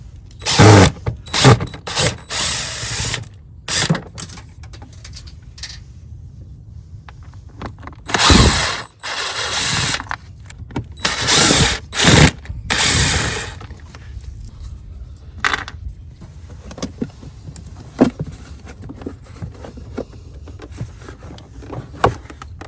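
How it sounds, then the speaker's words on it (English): A ratchet backs screws out of the air filter housing on a Range Rover Sport. Bursts of clicking and whirring come in uneven spurts, separated by quiet handling pauses and light clinks of parts, with no talk. "we're going to remove these screws. 3 screws on the back and 3 in the front"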